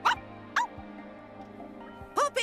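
Three short, close yips from Poppi, the robot in the Xenoblade Chronicles 2 video game, switched into dog mode, spaced apart with a quiet game hum in between.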